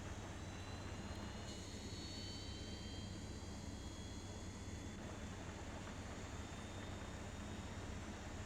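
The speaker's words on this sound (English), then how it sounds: "Starting engine 2. Engine number 2 will be coming alive, and we'll watch our N2 rise" Jet engine two of an airliner spooling up in the X-Plane 11 flight simulator, a steady broadband roar with a faint rising whine, continuous and even throughout with no voices.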